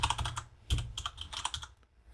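Typing on a computer keyboard while entering a share name for a Samba file server setup, a quick run of close, crisp key clicks with a heavier keystroke midway and no talk.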